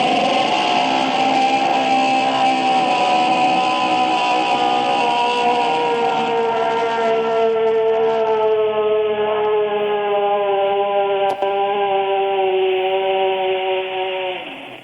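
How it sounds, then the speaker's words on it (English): A slowed-down animatronic scream from the Five Nights at Freddy's video game, a long, deep, droning wail with layered tones that slowly sinks in pitch across about fifteen seconds, loud and unbroken before fading at the end. "you end up getting this very slowed down version of the scream that is heard when a normal animatronic would hit you"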